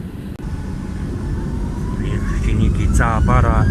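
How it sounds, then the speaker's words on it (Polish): Airliner engines spool up to full takeoff power on the runway, a loud, steadily building roar heard from inside the cabin, with a rising whine and brief chimes near the end. "Silniki, cała para i startujemy."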